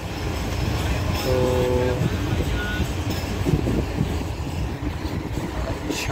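The 2DN Khyber Mail express approaches Sadiqabad railway station in Pakistan, with a loud, steady rumble of the train that runs throughout and a brief horn-like tone early on.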